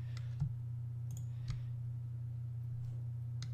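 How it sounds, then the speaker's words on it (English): Computer mouse clicks made while holding the Control key, with a few sharp isolated clicks spaced about a second apart over a steady low hum. "You just hold Control and press click"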